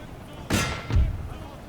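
Musket volleys in Napoleon Total War crack out as two sharp, booming bursts about half a second apart, each fading into a rumbling tail, with a voice talking underneath.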